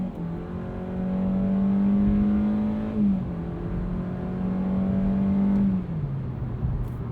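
A 2020 Hyundai Accent Limited with a CVT accelerating hard in sport mode, engine drone rising steadily, dropping at a simulated shift near three seconds, then climbing again before a second drop; loud, close cabin sound with no speech.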